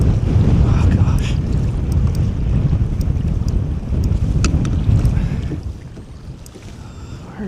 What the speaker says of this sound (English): Oh, that wind sucks.